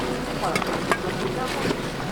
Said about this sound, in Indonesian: Sepoi angin berubah kencang